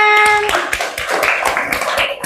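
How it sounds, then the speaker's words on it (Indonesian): Applause for group C at a classroom presentation, a short burst of hand clapping from a small group, steady and close, fading after a couple of seconds. "Beri tepuk tangan."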